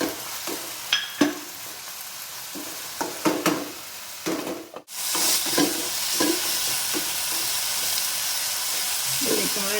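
Crushed garlic and green chilli go into a pan, with a few scrapes and clicks of stirring, then a sudden bright sizzle that holds loud and steady while stirring continues close by.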